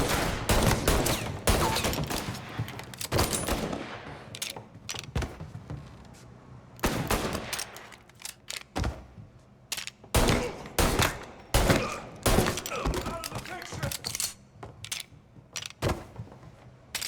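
Gunfire from Mafia: Definitive Edition: loud, close bursts of shots crack out again and again across the whole stretch, with brief lulls between volleys.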